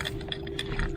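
A fishing reel cranked on a rock wall while fishing for halibut and striped bass, giving a brief run of quick, close mechanical ratcheting clicks over steady low background noise.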